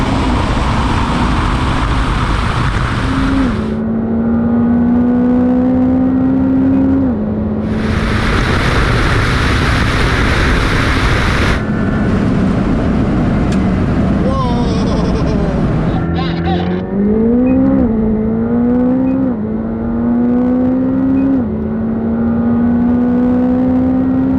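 A turbocharged car launches and accelerates hard, engine climbing to high revs through several gear pulls with loud rising whines and brief pauses between shifts, close and dominant while people talk over it.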